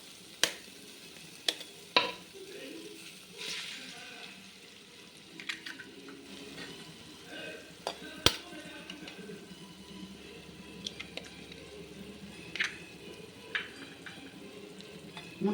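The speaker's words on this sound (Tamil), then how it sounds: "இப்போ எக்கை உடச்சி விட்டுக்கலாம்." Eggs cracked into a hot pan for egg pasta: a low continuous sizzle broken by sharp clicks and taps of cracking and stirring scattered throughout, close by and fairly quiet.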